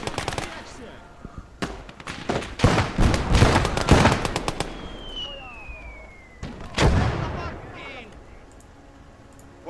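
Artillery and machine-gun fire in a war video game, with dense bursts of rapid shots and heavy blasts coming in loud clusters, easing off, then flaring again, while voices talk over the battle.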